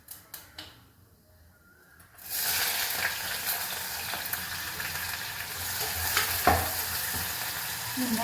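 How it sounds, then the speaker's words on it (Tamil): Onions dropped into hot oil with fennel seeds, cinnamon and cloves burst into a loud, steady sizzle after a few quiet taps, with crackles and stirring scrapes close by and no talk. "வெங்காயம் கொஞ்சம் வணக்கட்டும்."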